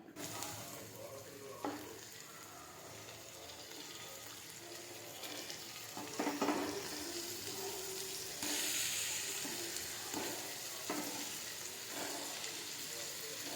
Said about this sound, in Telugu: ఇందులో కొంచెం పసుపు వేసి మళ్ళీ ఫ్రై చేస్తున్నాం ఇప్పుడు మ్యాగ్నెట్ చేసి పెట్టిన చికెన్ వేసుకుందాం